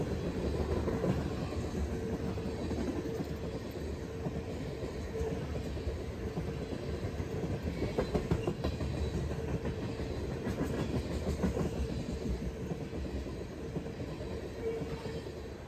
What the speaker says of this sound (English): And here's a Burlington Northern mixed freight coming along.